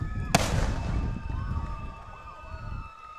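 A cannon is fired after a touchdown at a high school football game, Southern Prep vs. Evangel Christian. One sharp, loud boom rings out and fades into a sustained crowd roar with faint tonal whistles.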